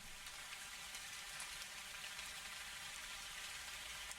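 Rain falls in Ark Survival Evolved on the Crystal Isles map. It is a steady, faint hiss of dense droplets that holds unchanged throughout, with no talk.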